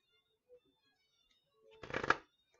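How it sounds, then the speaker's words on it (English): A deck of tarot-style cards is shuffled in one quick riffle burst near the end, close and crisp, after a near-silent pause with a faint tap. "This is the last deck I needed to shuffle"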